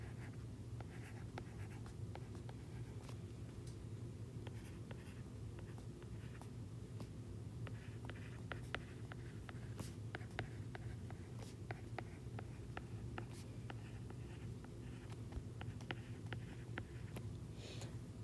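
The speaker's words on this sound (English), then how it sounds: "so let me write it out longhand." Pen or chalk writing out a long number by hand, steady scratchy strokes with short taps running continuously at close range over a low hum, no talking.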